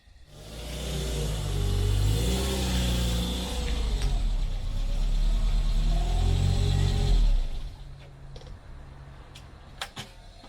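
A Renault 9 car engine revs and pulls forward onto tarmac, loud and close with rising and falling pitch, then cuts off, leaving quiet with a few sharp clicks and knocks.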